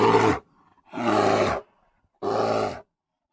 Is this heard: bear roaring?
yes